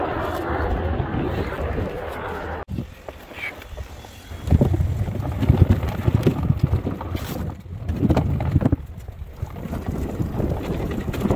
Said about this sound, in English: Windy all of a sudden.